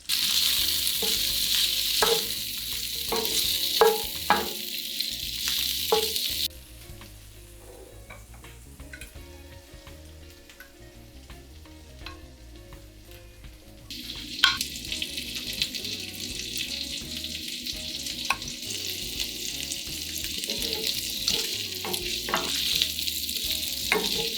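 Sausage frying in a pan with a loud, dense sizzle and scattered stirring scrapes and taps; the sizzle drops away to a quieter stretch midway, then surges back strongly for the rest.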